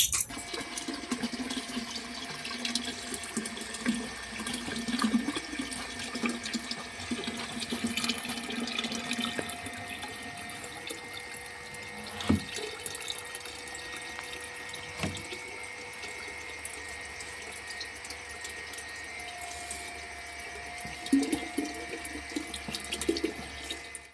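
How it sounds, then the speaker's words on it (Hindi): Water running from a household tap, filled slowly while the flow comes and goes; a steady, moderately quiet watery hiss with no voices. "रुक रुक के अभी भी पानी आ रहा है।"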